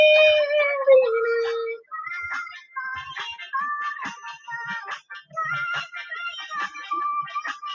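British cat meowing in a row of bright, wavering cries, the first drawn-out and falling, then a string of shorter rising and falling meows, close and fairly loud, with no voices.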